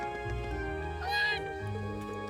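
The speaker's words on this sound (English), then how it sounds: "Cat making the fakest meow noise of all kind." A cat meows once in the video game Trails of Cold Steel, a short synthetic-sounding rising cry over a low background hum.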